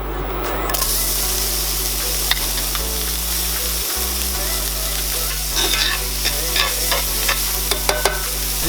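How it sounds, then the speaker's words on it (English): Diced onions hit a pan greased with rendered lamb fat and fry with a steady, loud sizzle and hiss, with light stirring and scraping throughout and no voice. "So I'm using this fat to re-grease my pan. Here we go, onions first."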